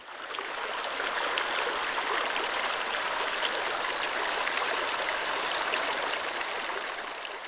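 A stream in Bhutan flowing beside a scrapyard, a constant rushing and gurgling of water that swells in after a brief quieter start and stays steady and close, with no talk.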